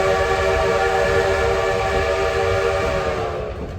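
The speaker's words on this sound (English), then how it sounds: "we're going to hear the engineer blow a sequence of whistles" A steam locomotive whistle on the Huckleberry Railroad blows one long, loud, steady chord-like blast, close and sustained, fading slightly at the end.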